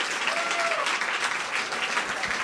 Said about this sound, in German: Applaus für den Francis.